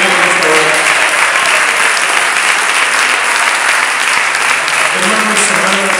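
Loud, sustained applause from a church congregation, many hands clapping in a thick, even roar throughout, with faint voices mixed into the crowd.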